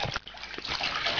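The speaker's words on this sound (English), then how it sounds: "get that Webkinz wet by putting it in water" A Webkinz plush toy is dunked and soaked in water, giving close splashing and sloshing with a sharp splash near the start, then steady trickling, faint and without talk.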